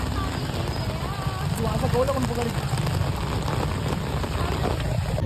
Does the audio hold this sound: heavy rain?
yes